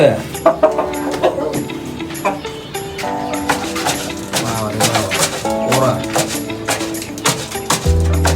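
A rooster kept on a rooftop with pigeons and ducks gives repeated clucks and calls, close and clear, mixed with someone talking over it.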